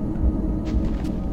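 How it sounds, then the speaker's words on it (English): Thunder from lightning in the Minecraft video game rolls as a low, muffled rumble, steady and moderately loud, with faint scuffs above it. "I can hear lightning, it's not helping."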